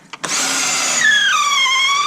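A handheld power drill whirs loudly and steadily, driving screws into wooden studs while bracing a pit blind during end-of-season maintenance; the motor pitch drops partway through as the screw bites, with no talk over it.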